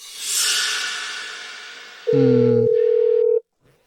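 A telephone gives off an electronic whoosh followed by loud, steady dialing tones that stack together, then cut off abruptly, with a short faint click afterward.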